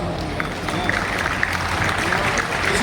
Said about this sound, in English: I think this calls for a applause.